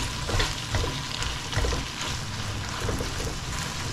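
Corned beef being stirred in a frying pan, a steady broadband sizzle with soft scraping strokes of the spoon every half second or so, close and continuous without talk.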